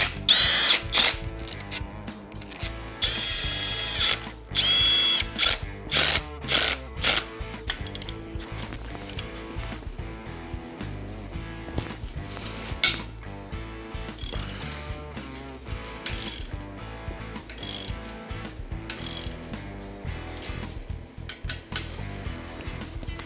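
A ratchet tool breaking a bolt loose on a blown ZR-1 engine: loud, close, rapid clicking ratchet strokes in uneven bursts, with metallic clatter and brief pauses throughout.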